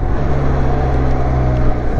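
A 2020 Benelli TRK 502 motorcycle engine drones loud and close in a steady low rumble with a faint tonal hum, no talking over it.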